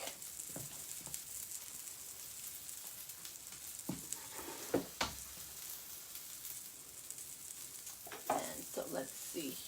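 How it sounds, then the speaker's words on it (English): A metal whisk stirring in a sizzling cast iron pan while cooking chicken piccata, giving a continuous hiss of frying broken by scattered scraping clicks and a few louder knocks. "because I am using cast iron, I can use my metal whisk"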